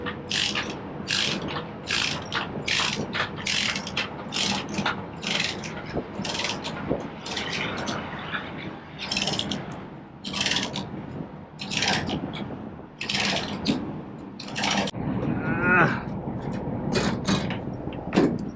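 Ratchet chain binder cranked to tighten a chain securing machinery on a step deck trailer, loud close bursts of rapid metallic clicking repeated in strokes, with chain clanks and a creak near the end, no talking.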